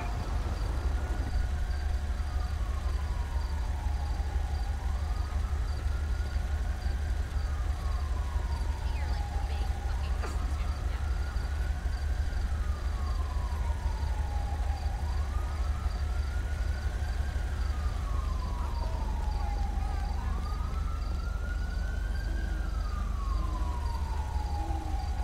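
An emergency vehicle siren in the video game GTA V with the LSPDFR police mod wails in slow, repeated rising and falling sweeps, steady and fairly loud over a constant low engine rumble.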